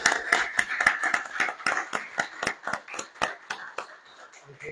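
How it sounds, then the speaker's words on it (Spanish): A seminar audience applauds the speakers, with fairly sparse, distinct hand claps in an uneven rhythm that gradually thin out and fade. "Yo creo que un aplauso."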